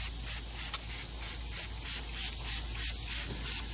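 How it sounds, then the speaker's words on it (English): Engine Clean extra tough cleaner and degreaser sprays onto a cool engine in a steady, continuous hiss with faint pulsing, heard close and alone at a low level. "I'm going to keep spraying this area"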